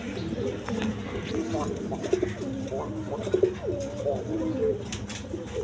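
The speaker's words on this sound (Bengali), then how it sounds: "এখানে এক পেয়ার আপনার রেসার কবুতর আছে" Pair of racer pigeons cooing close by in soft, throaty, repeated murmurs over a steady background hum, with a voice speaking at times.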